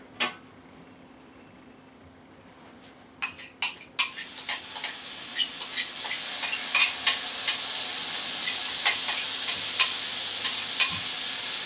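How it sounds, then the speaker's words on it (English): A wooden spoon stirs a mix in a hot pan, with a few sharp knocks at first, then a rising steady sizzle broken by light scraping taps, close and clear with no talk. "And I have a wooden spoon. Mix it together."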